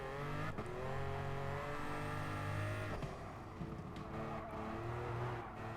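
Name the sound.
race car driving in the video game Gran Turismo Sport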